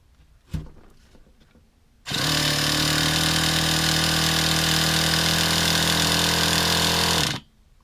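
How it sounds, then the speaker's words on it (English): After a faint knock, a Traxxas Slayer nitro RC truck engine fires up and screams at a steady, loud, high buzz for about five seconds, then cuts off abruptly; no talking over it. "Okay, the motor works."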